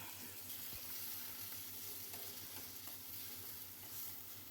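Tomatoes, coriander leaves and garlic fry in a pan for tomato chutney, giving a steady broadband sizzle with a low background hum and occasional soft stirring scrapes, with no voices.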